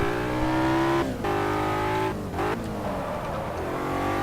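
A BMW M3 accelerates hard down a straight track, its engine note climbing through the revs with brief dips at two gear changes, then pulling strongly again, loud and close throughout.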